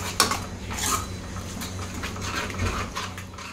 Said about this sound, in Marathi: दही छान मिक्स करून घ्यायचं।